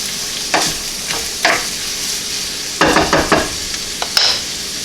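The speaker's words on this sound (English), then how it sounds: "And we want to saute that as well for about 20 seconds or so. Just toast up the rice a little bit." Basmati rice toasting in a hot pan gives a steady soft sizzle broken by several stirring scrapes and rattles, close by with no talking.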